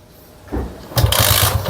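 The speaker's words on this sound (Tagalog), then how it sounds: "pag kinik natin mga Lodi, subukan natin i-kick" A Sniper 150 motorcycle engine being kick-started, a short kick thump followed by the engine catching into a loud, close, rough idle with pulsing beats.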